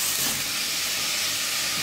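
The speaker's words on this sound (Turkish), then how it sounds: "Bir adet küçüklerinden havuç, bir adet de kabağı yağın içine ilave ediyorum" Grated carrot and zucchini frying in hot oil in a pan for a vegetable yogurt soup: a steady, bright, close sizzle hisses evenly throughout, with no voices.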